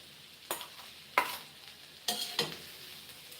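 Mola fish hitting hot oil in a pan with cauliflower stalks and cabbage sets off four separate bursts of sizzle and stirring, close and fairly quiet, with hushed frying between them.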